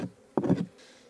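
A short, close burst of honeybee buzzing from a weak hive colony rises suddenly and fades after a moment, with faint low hum around it.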